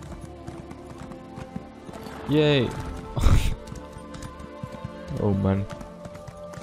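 Horse hooves clop as a rider travels on horseback in the video game Elder Scrolls Online, short bursts of hoofbeats rising over a steady game soundscape, with someone speaking briefly.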